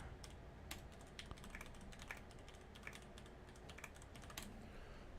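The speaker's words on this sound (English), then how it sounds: "So sorry for the typing" Quick, irregular keystrokes on a computer keyboard patter faintly and steadily, close to the mic at a dirt-track race broadcast desk, with no talking.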